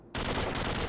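Gunfire in a video game, a sudden loud burst of rapid automatic shots starting abruptly and continuing densely for under a second.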